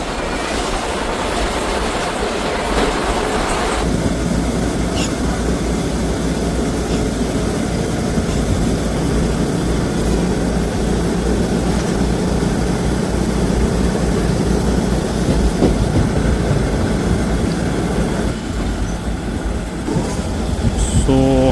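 Train 14735 from Sri Ganganagar toward Ambala Cantt runs steadily on the rails at about 110 km/h, a loud continuous rumble with rhythmic clatter and occasional squeal, heard from on board.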